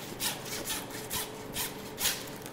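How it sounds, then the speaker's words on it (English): A handsaw cutting through a cow's backbone during butchering, a quiet, close rasping in regular back-and-forth strokes, about six pulls with no talk. "we're going to grab our handsaw and we're going to cut through this back bone"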